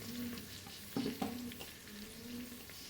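Onions fry in a pan for Odia-style mutton curry, a close steady sizzle with a few scraping stirs and clinks of the spoon near the middle, no speech.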